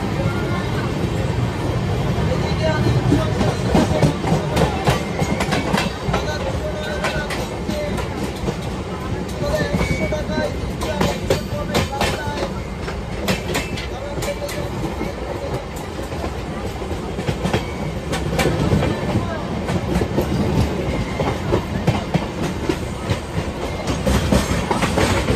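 A train rolling slowly past near Bardhaman station, heard from aboard a Sealdah–Godda fast passenger train: a continuous loud rumble with irregular rail clacks and metallic rattles, with voices talking over it.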